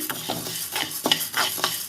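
Pigeon pea lentils frying in a pan with rhythmic scraping stirs over a soft sizzle, close and brief, with no speech.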